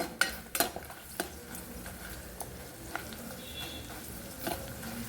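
Dried broad bean vathal frying in sesame oil in a pan, a faint, steady sizzle with a few sharp clinks and scrapes of a utensil near the start and scattered lighter taps later.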